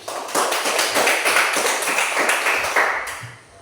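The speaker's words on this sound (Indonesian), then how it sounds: "kita berikan tepuk tangan untuk kelompok 3" Classroom of pupils clapping for a student group, a brisk, fairly loud burst of fast hand claps lasting a few seconds before tapering off, with no talking over it.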